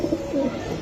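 A single pigeon gives one short, close, soft coo, heard alone.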